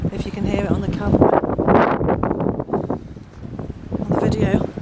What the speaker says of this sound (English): It's a really windy day, so I apologise if you can hear it on the camera